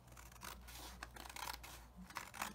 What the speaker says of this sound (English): I'll just cut that off because it's kind of short. So I'll just cut it